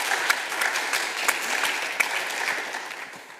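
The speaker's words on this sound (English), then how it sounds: "And a special another round of applause for Lynn" A conference audience applauds in a steady wash of clapping that holds evenly for several seconds, a few louder individual claps standing out, with no talking over it.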